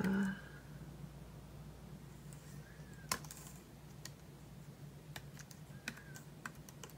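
Faint, sparse keystrokes on a computer keyboard while text is typed into a website editor, with scattered soft clicks spaced apart over a low background hum and no talking.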